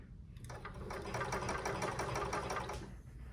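A blind stitch sewing machine hems sheer drapes, running in a fast, even mechanical rhythm for about two seconds before slowing to a stop, close and alone.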